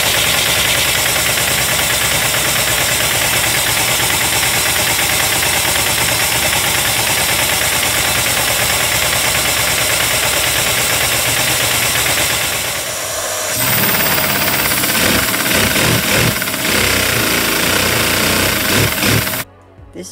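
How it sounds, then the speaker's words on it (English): A small LEGO vacuum-driven Volkswagen VR2 two-cylinder model engine runs steadily with a fast, buzzing mechanical rattle, shifting to a harsher, more strained tone partway through before cutting off abruptly. "This engine for two cylinders is pretty small"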